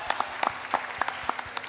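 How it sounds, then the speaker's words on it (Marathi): Audience at a live comedy stage show clapping for a team, a thin scattering of individual claps heard fairly close with no steady roar. "त्यांच्यासाठी एकदा जोरदार टाळ्या वाजवूयात."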